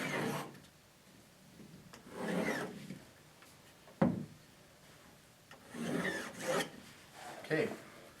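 A drywall saw cuts horizontally through a wall patch toward a stud, giving several separate rasping bursts of a few strokes each, close by, with quiet gaps between them.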